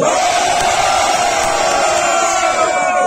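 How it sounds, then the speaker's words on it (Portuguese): A large crowd at a Brazilian freestyle rap battle roars and shouts continuously, loud and dense, with whoops rising above the wall of cheering. "Pra quem gostou das rimas da JS, faz barulho"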